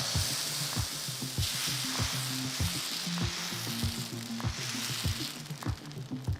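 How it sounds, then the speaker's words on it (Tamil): Set dosa batter sizzles steadily on a hot griddle, a bright continuous hiss with scattered soft clicks and a low hum underneath, with no talking. "ஜஸ்ட்டு ஒரு கரண்டி மாவு எடுத்து ஊற்றிட்டு லேசாக அதை ஸ்ப்ரெட் பண்ணுங்கள்"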